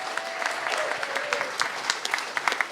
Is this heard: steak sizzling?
no